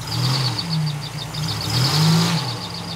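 The engine of a Buick Grand National runs with a steady mid-pitched drone and rises and falls as it is revved, with an irregular tapping noise riding on top. Nearby and loud, with no talk.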